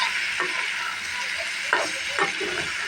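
Bottle gourd peel frying with green chilies in a pan, a steady sizzle with a few brief stirring scrapes at close range and no talk.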